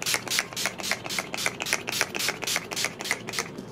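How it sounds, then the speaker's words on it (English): A rapid series of short, hissing bursts of Urban Decay All Nighter makeup setting spray, close and fairly loud, repeating in a steady pulsing rhythm with no voices. "I'm gonna melt everything down with some setting spray"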